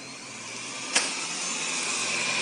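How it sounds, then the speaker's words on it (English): A Xiaomi Mi robot vacuum cleaner runs with a steady, close broadband whir and a high-pitched motor whine, plus one brief click near the start. "Okay, you'll hear the vacuum."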